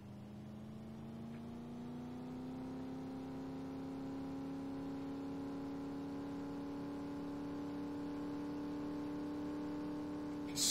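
A Porsche sports car driven in Farming Simulator 19 gives a steady, loud engine drone with a rising harmonic whine, holding high revs throughout with no talk over it.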